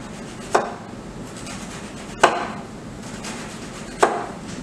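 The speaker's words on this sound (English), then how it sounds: "just cut a couple of slices of onion" A knife slicing onion on a cutting board makes three distinct, evenly spaced thuds, each a crisp knock with a short tail, separated by quiet pauses of almost two seconds.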